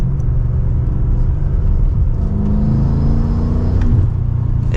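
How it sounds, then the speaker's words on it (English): A deep, throaty F90 BMW M5 Competition V8 engine rumbles and revs steadily, heard from close by with a low growl throughout. "But just the sound that this V8 makes,"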